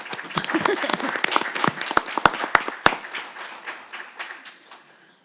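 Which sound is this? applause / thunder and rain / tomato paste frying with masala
applause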